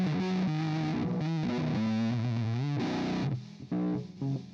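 A distorted electric guitar through an ESI Amber i1 audio interface plays a run of sustained notes and slides, with a chorus-like shimmer; it cuts off abruptly near the end with short choppy bursts, like gating.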